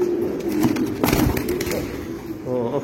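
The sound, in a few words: Andalusian pigeons cooing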